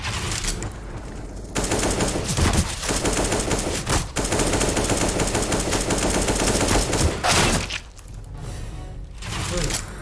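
Rapid automatic gunfire in a CS:GO deathmatch, long dense bursts with brief pauses, loud and close.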